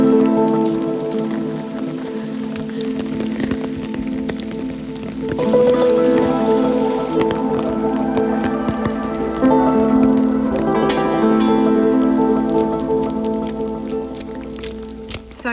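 Rain falls steadily in a forest on a hike, a close, continuous patter of drops on leaves and gear, fairly loud and even throughout, with no talking.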